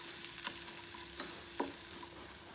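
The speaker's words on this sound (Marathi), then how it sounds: "याला थोडंसं बढिया असं फ्राय करून घ्यायचं. चमचा घेऊन त्याला थोडंसं असं गोल्डन होतपर्यंत" Vegetables frying in a pan for homemade vegetable Maggi, a faint, even hiss of oil with a few soft spoon scrapes, heard alone.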